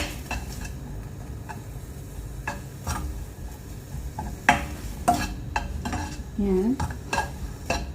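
Minced meat and vegetables with salt being stirred in a pan, a utensil clinking and scraping against the metal in irregular bursts with a soft sizzle underneath, fairly close.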